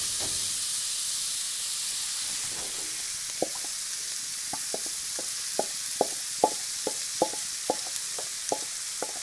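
Vegetables sautéing in foamed butter in a pan, a loud continuous sizzle and hiss with a series of regular knocking taps of a spoon stirring, close up.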